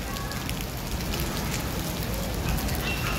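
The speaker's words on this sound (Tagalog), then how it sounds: "Wrong timing na ulan." Steady rain patters continuously on a surface, a dense even hiss of drops with no breaks and no talking.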